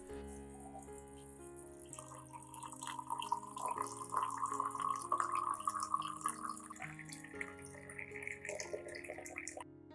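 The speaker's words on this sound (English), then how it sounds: "Next, I will add about 500 milliliters of clean water." Clean water pours into a glass cup holding chopped banana peel, making a soft, steady trickling and gurgling sound at close range with a rising tone, quiet overall and without talk.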